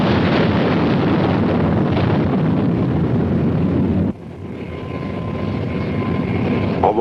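Military jet catapulted off an aircraft carrier deck, a loud sustained engine roar with wind buffeting that cuts off abruptly near the end and is followed by a slightly quieter rising roar.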